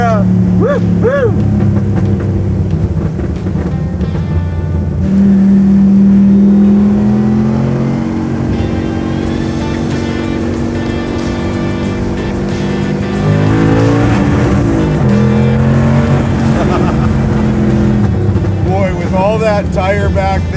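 Pro Street 1967 Chevy Nova pulling hard, its loud engine roar rising through the gears from inside the car, with a brief shift break, while occupants talk and shout over the noise.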